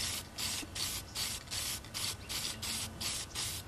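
Aerosol spray paint hissing onto a model robot in repeated short, even bursts, about nine quick passes with brief gaps, close and steady with no talking.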